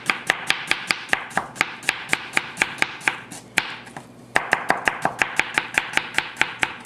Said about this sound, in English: Curl your fingers so you don't cut yourself. And then slice it.